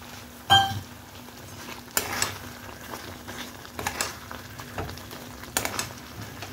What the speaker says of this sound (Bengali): গ্রেভিটা ফুটছে, তখন আমি এই ভেজে রাখা পনিরগুলো দিয়ে দিচ্ছি